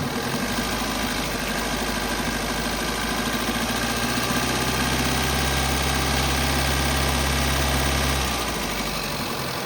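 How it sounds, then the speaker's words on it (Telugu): A 2008 Hyundai i10 Magna 1.1 petrol engine is held at about 2000 RPM with a steady droning hum and rattly texture, then drops back toward idle near the end. "ఇప్పుడు రేజ్ చేయండి. 2000 RPM ఉంది."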